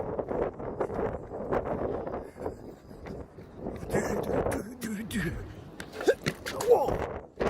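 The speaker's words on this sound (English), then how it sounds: "Alright guys, it's windy." Outdoor wind blows across the microphone in uneven low rumbling gusts, with voices and breathy sounds mixed in throughout.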